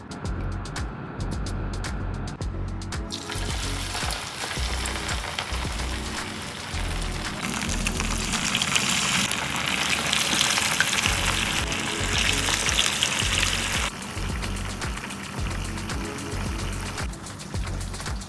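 Fish frying in hot oil, a loud, dense, close sizzle that runs steadily throughout and swells briefly in the middle, with no voices.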